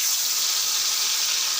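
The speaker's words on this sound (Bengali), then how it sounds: "এখন এগুলো তেলে ছেড়ে দিব।" Marinated chicken pieces frying in hot oil, a steady close sizzling hiss with no breaks and no talk.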